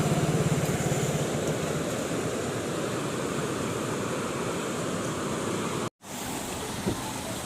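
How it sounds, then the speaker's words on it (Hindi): Fast-flowing water rushes in a loud, steady broadband roar, briefly cut off near the end before resuming, with no talking. "हाय बहुत तेज है पानी।"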